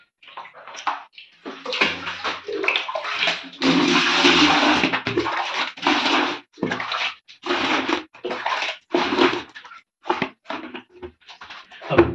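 Hot water is poured and sloshed while cleaning a water tank, producing loud splashing, gushing bursts with rushing water in choppy pulses and brief pauses, close to the listener and without talk.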